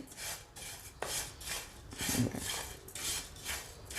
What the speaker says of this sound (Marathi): अशा तऱ्हेने मी हे भाजून घेते